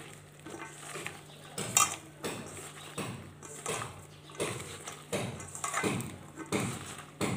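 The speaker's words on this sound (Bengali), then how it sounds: "সব কিছু দিয়ে সুন্দর করে হাত দিয়ে মেখে নিতে হবে" A fish marinade of chili powder and mustard oil is worked by hand in a bowl, making repeated wet squelching and rubbing pulses with light clinks of the dish, close and fairly quiet.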